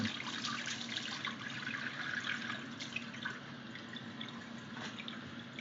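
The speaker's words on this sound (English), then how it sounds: "This is cold water going in." Cold tap water runs through a wort chiller while homebrewed beer is being cooled, giving a steady, fairly faint trickle and drip of flowing water with no talking.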